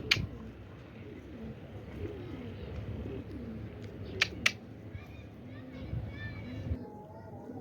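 Pigeons coo in low, rolling murmurs through most of the stretch, with a few sharp clicks or wing claps near the end, and faint voices in the background.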